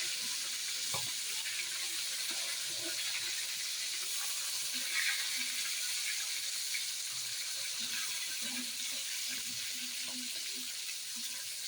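Two fish heads fry in oil in a home kitchen pan, a continuous hiss and sizzle with occasional soft clinks and pops, steady and close without talk.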